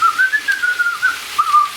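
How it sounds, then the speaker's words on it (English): A person whistles a short, wavering tune close by, with quick rising and falling notes repeated in small bursts over a quiet kitchen background. "Yeah, that was me whistling."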